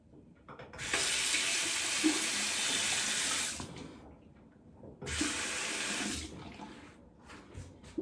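Water running from a tap into a sink, a loud steady splashing hiss in two bursts of about three seconds and just over one second, with a quiet pause between them.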